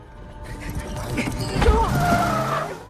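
Tires squeal and skid as a car slides out of control in a dramatic film scene, a loud, building screech lasting a few seconds with a thud partway through and talk-like sounds underneath.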